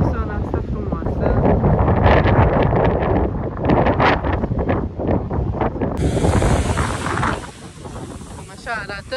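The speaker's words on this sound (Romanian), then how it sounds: "Doar că e vântos. E o zi cu vânt." Strong wind buffets the microphone on a beach in Lanzarote, a continuous loud rushing roar with gusts, and a voice talks through much of it.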